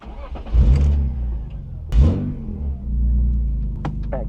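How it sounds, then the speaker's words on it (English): BMW E36 M3 sedan track car with an Active Auto Works exhaust, its engine rumbling and revving from inside the cabin in surges, loud and close, with no talk. "Active Auto Works exhaust sounds real good."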